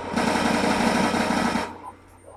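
Rapid automatic fire from an MTAR rifle in a shooter video game, a dense loud burst of continuous shots lasting about a second and a half before cutting off into quiet.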